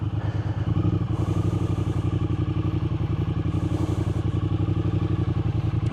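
Triumph Speed Twin 900 motorcycle ridden toward Silverdale, its twin-cylinder engine pulsing steadily and loudly from start to finish, with rumbling exhaust and a few clattering knocks from the road.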